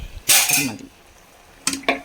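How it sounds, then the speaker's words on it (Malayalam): A spoon stirs avial, Kerala mixed-vegetable curry, in a metal pan: a loud scraping clatter, a pause, then two more quick scrapes and clinks, close up with no talking. "നന്നായി ഇളക്കി യോജിപ്പിക്കാം."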